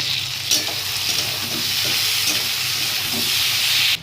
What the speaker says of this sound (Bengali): এরকম বেশ খানিকক্ষণ আমি নাড়াচাড়া করব।